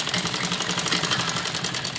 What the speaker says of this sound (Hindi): और कट आपस में पूरे मिलाकर पूरा मिलाते हुए कपड़े को हमें सिलना है।